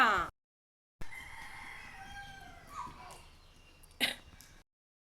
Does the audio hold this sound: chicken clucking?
yes